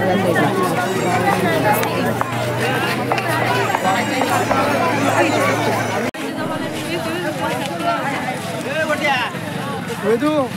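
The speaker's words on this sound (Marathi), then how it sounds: "गर्दी कमीच होत नाही. गर्दी वाढतच चाललंय." Dense crowd at a village yatra festival fair in Vashi village, Pen taluka, a loud close babble of many overlapping voices with movement and bustle, and a brief drop in level partway through.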